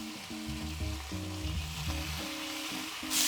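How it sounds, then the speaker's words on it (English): Beef browns in batches in hot oil in a pan for Texas-style chili, giving a close, continuous sizzle and crackle of frying with light stirring and no voices. "You're gonna brown your meat in batches."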